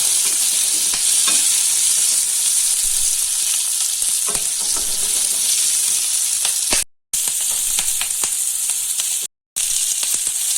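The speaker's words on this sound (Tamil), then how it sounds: "சின்ன வெங்காயம் போடுறேன், அதாவது வெங்காயம் போட்டுக்கலாம்." Shallots fry in a pan for a fried egg gravy, producing a loud, steady, close-up sizzle with faint stirring clicks and two brief cuts to silence.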